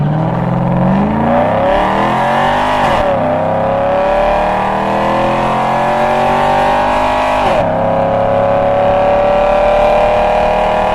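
Modified 2002 Camaro SS V8 on drag radials accelerating hard down a drag strip, loud continuous engine roar rising in pitch through the gears with two sharp shift breaks.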